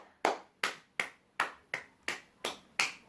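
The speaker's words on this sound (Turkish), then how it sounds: "Elime vurduğum için alkış sesi geliyor." Eight sharp, evenly spaced slaps of a hand being struck sound like single claps during a gun and knife test, each one close and loud with a quick decay.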